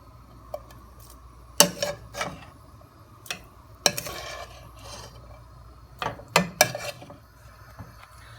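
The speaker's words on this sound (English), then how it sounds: "we will grab our spoon and add our sausage" A spoon scrapes and clinks against a soup pot as sausage is added, giving scattered sharp metallic taps and knocks amid quiet background hum.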